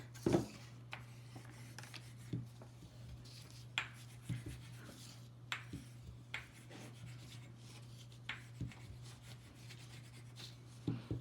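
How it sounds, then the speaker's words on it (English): A glue stick rubbed firmly over folded paper to crease it flat for an accordion book, giving soft, close scraping strokes in short irregular bursts over a steady low hum. "just giving it an extra rub so that it stays flat"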